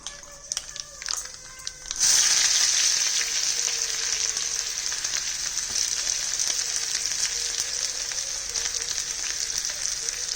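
Onion, garlic, curry leaves and chillies hit hot oil for a tangy tamarind-leaf dal and set off a loud, steady close sizzle. Faint clatter comes first, and the frying then carries on without a break.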